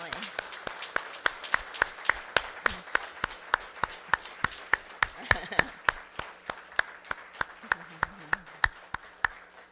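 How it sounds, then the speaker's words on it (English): A town board meeting audience claps for an award, steady and fairly close, thickening into dense applause, with a voice speaking faintly beneath. "Now let's please stand up and give a loud round of applause to the recipients of the next Pleasant Valley Making a Difference Award, the Kiggins family."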